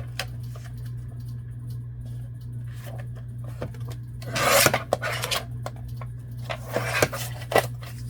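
Paper for a junk journal pocket is cut in close, crisp rasping strokes, one longer burst of scraping in the middle and scattered shorter snips, over a low steady hum.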